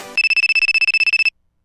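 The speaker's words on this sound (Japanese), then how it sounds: "あ、電話だ。" Phone ringtone in the Car Parking video game: a rapid, evenly pulsed electronic trill of about fifteen short bursts, loud and close, with no voices over it.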